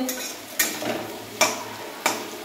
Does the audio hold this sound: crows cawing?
no